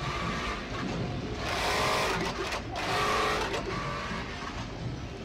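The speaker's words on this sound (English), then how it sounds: "It's a bar cut machine." An industrial bar tack sewing machine runs in a menswear garment factory in Bangalore with a loud, steady mechanical whir and rattle that swells and eases over several seconds, set against busy factory background noise.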